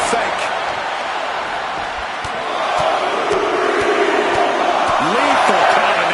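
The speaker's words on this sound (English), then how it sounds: "Just listen to this crowd." A crowd in the WWE 2K26 wrestling game cheers and roars steadily at an arena show, swelling louder toward the end, while a commentator talks over it.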